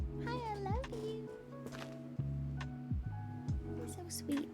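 A pet cat meows close by in a few drawn-out cries over a steady low hum, with a person talking softly at times.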